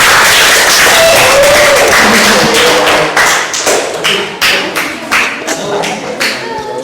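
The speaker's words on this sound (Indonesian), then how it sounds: "Tepuk tangan kepada kelompok 4." Classroom group applauding a presenting group, a dense burst of hand claps that thins into scattered individual claps and taps toward the end, loud and close with no talking.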